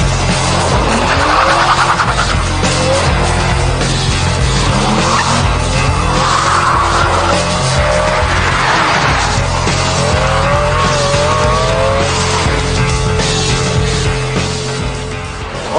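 A Ferrari 612 Scaglietti with traction control off drives hard, its tyres squealing and skidding in long repeated wails over a loud, continuous engine roar.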